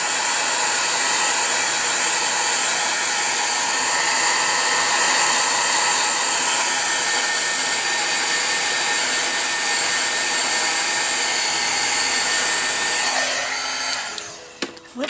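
A hair dryer blows steadily and loudly on a watercolor painting of feathers in an illuminated journal, a constant broadband whoosh for about thirteen seconds before it switches off and winds down.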